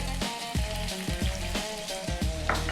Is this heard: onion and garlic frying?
yes